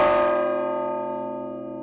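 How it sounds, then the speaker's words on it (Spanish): A single church bell rings out a funeral toll for a dead child, using a recast bell named Eulalia; one strong strike hums on and fades slowly with rich overtones, heard alone. "el toque fúnebre, llamado de gloria o mortijuelo, se realizaba con otra campana."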